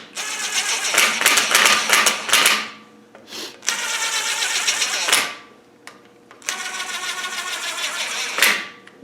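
An air impact gun undoing nuts on a vehicle axle during a strip-down, loud rattling hammering bursts of about two seconds each with short pauses between, close by.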